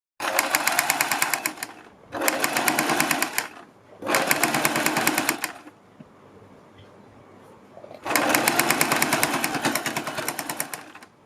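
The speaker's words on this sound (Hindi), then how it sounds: "पहले हम यहाँ पर सिलाई लगानी है जहाँ पर हमने पाइपिंग की सिलाई लगाई है।" A sewing machine stitching a strip onto a kurti neckline along earlier piping, running in three rapid bursts of about two seconds each, then a pause and one last longer run, loud and close.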